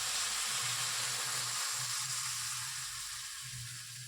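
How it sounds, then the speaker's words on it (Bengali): Steady close sizzle and hiss of a paneer and peas curry frying in a pan as hot water goes in, with a broad hissing wash over low bubbling pulses that fade slightly toward the end. "এবার আমি এর মধ্যে দিয়ে দেব গরম জল।"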